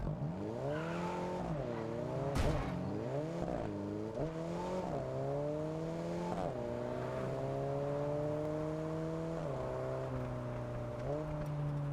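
Engine note of a car driven in the racing game Test Drive Unlimited Solar Crown, a steady revving drone that climbs and drops with repeated gear shifts and acceleration, loud and continuous with no talking.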